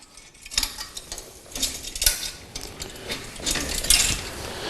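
Metal R pins are refitted into the arm of a power-drive drum rotator, making a close series of light metallic clicks, rattles and clinks with no talk.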